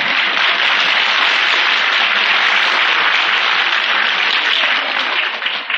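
Loud, sustained applause from an audience during a sermon, a thick continuous wash of clapping that holds steady and then briefly thins near the end.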